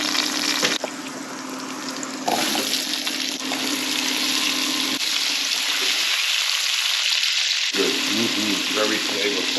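Steady, loud sizzle of meat, bones and vegetables frying in a pan, a continuous hiss lasting throughout with slight shifts in intensity.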